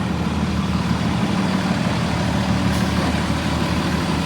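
Heavy trucks rumble past on a downtown street, a loud, steady engine drone close by with no break across the moment.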